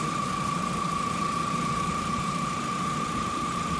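A 1.8 car engine fitted with a cold air intake idles in a steady, even drone, with a constant whine running over the low rumble and no voices.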